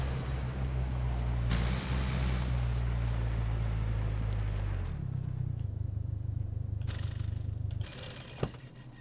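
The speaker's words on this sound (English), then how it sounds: "It's a garbage truck. In real life, a garbage truck." A real garbage truck rumbles close by with a deep, steady engine drone and a broad hiss; the engine note drops midway, followed by a few clanks and a sharp knock near the end.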